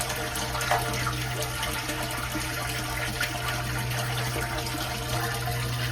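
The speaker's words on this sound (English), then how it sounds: "you can see the efficiency of this pump, how fast it takes the water out of there" A septic lift station pump drains water out of the tank, giving a steady, loud rush of flowing liquid over a constant low mechanical hum, unbroken for the whole stretch with no talking.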